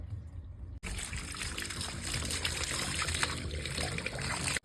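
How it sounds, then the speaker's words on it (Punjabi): Dirty water trickles and splashes out of a water tank being cleaned, in a steady, close stream, a continuous gushing dribble that runs without pause. "ਗੰਦਾ ਪਾਣੀ ਆ ਰਿਹਾ ਬਾਹਰ"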